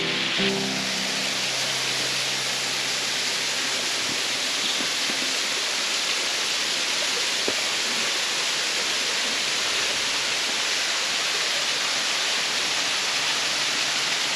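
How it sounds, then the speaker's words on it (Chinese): The upper tier of Jiadong Waterfall rushes in a dense, unbroken roar, loud and close, steady throughout with no voices. "我现在抵达较上层的嘉东瀑布"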